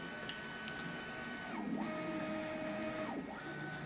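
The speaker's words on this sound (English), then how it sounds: "So we're just homing to start printing at 250 millimeter a second." V-King CoreXY 3D printer moving at 250 mm/s, stepper motors whining in rising and falling sweeps as the head changes direction, close and steady over a faint fan hum.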